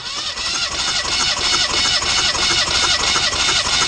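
BMW M10 2.1-litre engine fitted with Dellorto DHLA 40 carburetors cranking at full throttle, a loud, continuous rhythmic churning of the starter turning the engine over, close up without talk.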